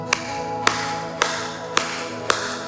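Five sharp, evenly spaced hand claps ring out about half a second apart over a sustained musical backdrop, each one crisp and prominent.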